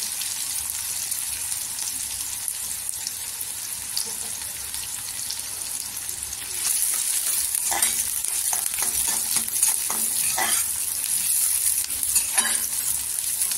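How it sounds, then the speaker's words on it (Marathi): Onions and curry leaves sizzle in hot oil during a curry preparation, a steady close frying hiss that grows louder partway through as the leaves go in, with stirring scrapes. "इथे कढीपत्ता टाकायचा"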